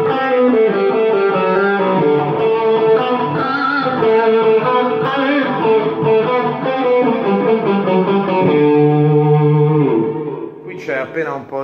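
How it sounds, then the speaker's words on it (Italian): Electric guitar played through a Line 6 Helix with a light Tube Screamer overdrive, sustained chords ringing loud and steady with a slightly gritty, colored tone, a brief voice near the end. "appena un po' di Tube Screamer che aggiunge un pochino di colore, un pochino di distorsione"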